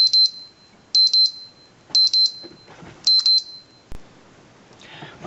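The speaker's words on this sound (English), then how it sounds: "my timer ran out," A timer alarm beeps in four evenly spaced bursts of rapid high-pitched electronic beeps, close and clear, followed by a thump and rustling.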